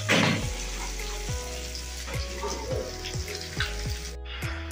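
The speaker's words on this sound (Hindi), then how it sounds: "बस फ्राई राउंड चल रहा है अभी।" Octopus frying in a pan, a steady broadband sizzle with watery crackle running throughout, loud and close, with a few soft metallic knocks against the pan.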